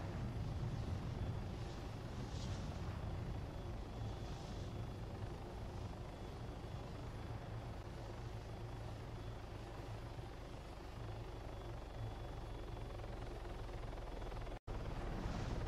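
A helicopter in the video game ARMA 3 comes in to land, its rotor and engine roaring loud and steady for the whole stretch, with only a brief cut near the end.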